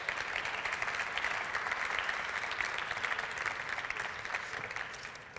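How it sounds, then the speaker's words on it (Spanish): A conference audience gives sustained, even applause, a dense wash of clapping hands that holds steady and fades slightly at the end. "Un fuerte aplauso y así entramos un poquito en calor."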